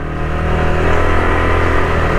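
A motorcycle engine drones loud and close while riding along a road in Cebu, Philippines, a steady mid-pitched hum with wind rush and no speech.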